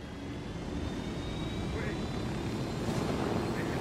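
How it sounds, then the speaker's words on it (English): A helicopter in the Ghost Recon Wildlands video game gives a constant, loud rotor and engine drone that fills the clip. "Get in the team chopper, Salazar."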